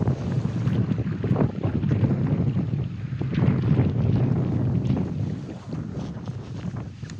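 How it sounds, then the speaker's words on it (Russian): Strong wind buffets the microphone in a steady, rumbling roar with gusty swells, likely out on open water while fishing for taimen and pike in Altai. "Ветер, падла, ветер."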